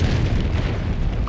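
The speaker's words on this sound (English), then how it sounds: "Guess I have a guided rocket." A guided rocket detonating in Call of Duty: Black Ops 6, a loud, rumbling blast with a sustained roar that fills the whole moment.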